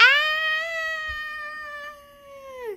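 A cat gives one long, drawn-out, nearly steady meow that fades at the end, clear and close, with no talking.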